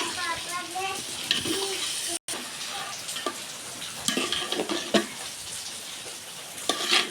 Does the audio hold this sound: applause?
no